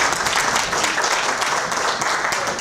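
An audience in the East Sandwich Grange Hall applauds warmly, a dense, steady wash of many hands clapping close and loud throughout.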